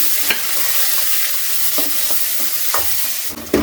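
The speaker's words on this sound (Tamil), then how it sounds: "வெங்காயம் பூண்டு எல்லாம் சேர்ந்து நல்லா வதங்கிடுச்சு" Sliced onion and garlic sauté in a hot pan for banana leaf kuzhambu: a continuous loud sizzle broken by several sharp scraping strokes of a stirring spoon.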